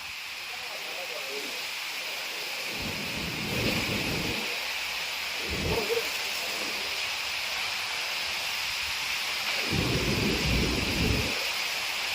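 Thunder rumbles in several low, heavy rolls over steady rain during a storm with scattered showers and gusty wind around the sugar factory area of Rajuri and Pravaranagar, near Loni, with the rain hiss continuous throughout.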